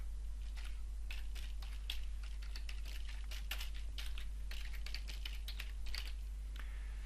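Close, quick tapping of keys as a name is typed on a computer keyboard, a steady flurry of light clicks over a constant low electrical hum.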